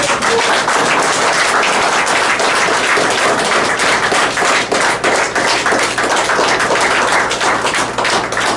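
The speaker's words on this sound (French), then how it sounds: "Je demande à la Sainte Assemblée d'applaudir" A church congregation at a Sunday service breaks into loud, sustained applause, hundreds of hands clapping in a dense, even roar that stays close and unbroken for the whole stretch.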